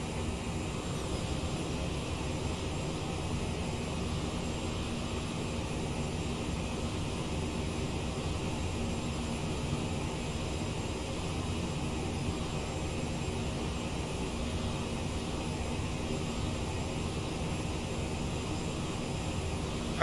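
Steady, loud broadband roar of the CRJ900 jet's engines heard from inside the cabin in flight, a constant unbroken rush and hum with no talking.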